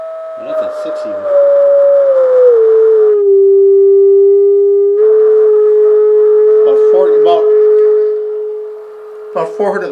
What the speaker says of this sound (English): That cup is starting to buzz, so it's starting to hand off the signal in the crossover at about 400 hertz.